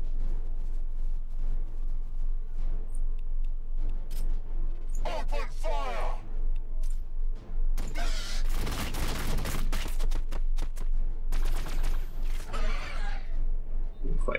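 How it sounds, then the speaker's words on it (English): Gunfire and explosions in Warhammer 40K Battlesector, loud bursts and heavy blasts layered over battlefield noise and game music, with voices speaking throughout. "Open fire!"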